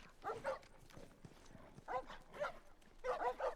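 Dogs in The Last of Us bark in repeated short bursts, several times in a row, mid-distance and fairly loud amid game sounds and footsteps.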